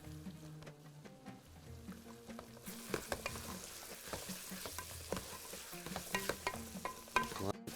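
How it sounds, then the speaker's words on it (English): Chopped carrots sizzle and fry in a pan while being stirred, a steady hiss with scraping and clicking of the utensil building in density after the first few seconds. No speech. "I'm going to add the carrots, because they take time to cook."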